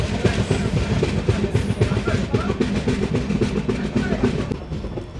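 The Alipurduar Tourist Express runs through the Dooars, with a loud, continuous rumble and rapid clickety-clack of wheels on rail joints that holds steady at close range for the whole stretch.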